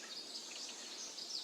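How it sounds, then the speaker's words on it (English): Steady high-pitched chirping from a gecko, faint and continuous with a soft textured hiss, no other sounds around it. "gecko"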